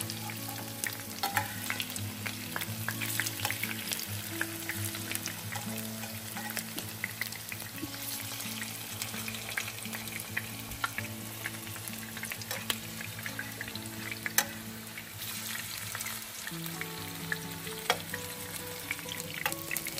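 Steady crackling sizzle of fish frying in hot oil, close and continuous, with faint clinks of a utensil now and then.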